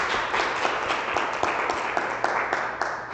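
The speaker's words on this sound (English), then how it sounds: "Give yourself a big round of applause for being here." A live audience at a morning seminar event claps together in a continuous round of applause, with a few distinct sharp claps near the listener rising over the steady patter.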